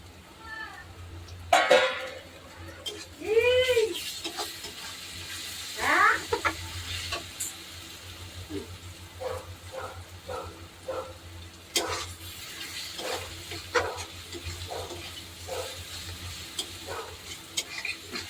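Onions and garlic are stir-fried in a pan, with a soft, uneven sizzle and intermittent scraping stirs. A faint voice-like sound comes through in places.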